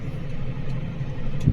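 A T7220 tractor drums along at a steady engine note while driving across a frozen, frosty field during slurry spreading, a low continuous rumble with a brief bump near the end.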